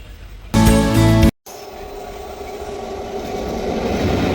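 Amrita Express passenger train running on rails, a loud close rumble with a brief tonal burst, then a steady, building roll of wheels and wagons.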